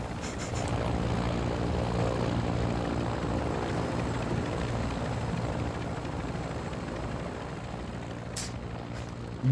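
Helicopter in the Call of Duty DMZ video game, a steady close rotor thrum held at even loudness for several seconds with no talk over it.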